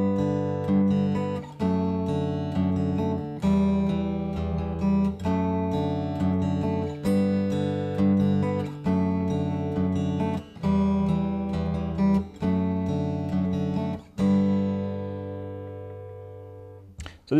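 Acoustic guitar plays a steady fingerpicked chord pattern, each chord ringing for about a second and a half before changing, ending on a fading final chord.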